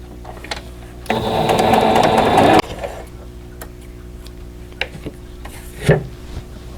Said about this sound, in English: And sew a 1/4 inch away.